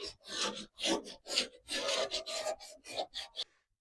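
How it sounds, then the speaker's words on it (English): Sandpaper rubbed by hand along a painted wooden edge, a close series of about a dozen raspy back-and-forth strokes in an uneven rhythm, ending in quiet. "take some sandpaper, get that crusty edge"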